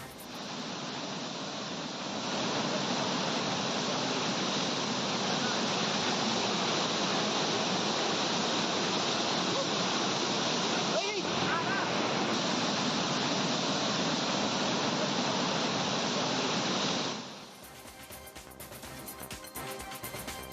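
Abbi Falls, a waterfall near Hosanagara, gives a steady, dense roar of falling water that stays constant and full for most of the stretch before cutting abruptly to quieter noise near the end.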